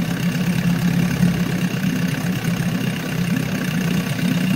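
A 34-year-old Evinrude outboard motor idles steadily at a low, even rumble, loud and continuous with no talking.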